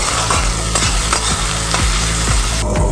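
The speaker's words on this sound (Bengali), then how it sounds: "পেঁয়াজটা হালকা লাল করে ভেজে নেব।" Onions fry in hot oil until lightly browned for a boneless chicken kasha, a loud continuous sizzle broken by regular scraping stirs against the pan, close up with no voices.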